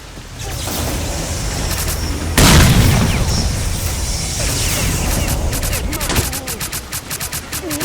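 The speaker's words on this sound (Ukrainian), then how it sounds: "зараз я кину гранату, чуєш ти?" A grenade goes off in Stalker: Clear Sky, a loud broad blast about a third of the way in over constant game noise, followed by mechanical clicks and rapid rhythmic gunfire bursts toward the end.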